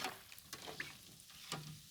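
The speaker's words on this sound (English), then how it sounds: "These are definitely done frying." Quiet, steady sizzling of tortilla chips frying in hot oil, with a few faint clicks and taps.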